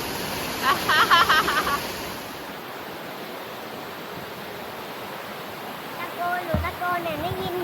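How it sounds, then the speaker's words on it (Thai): The Wang Kan Lueang waterfall in Lopburi gives a constant loud broadband rush of falling water, with brief voices rising over it near the start and end. "ไม่ได้ยินเสียงตรงนั้นน้ำตกมันเสียงดัง"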